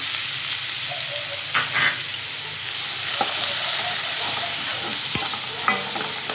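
Onion frying in hot oil and butter with cumin seeds crackles in a loud, steady sizzle, with several sharp stirring scrapes and knocks of a spoon against the pan breaking through, and no talking.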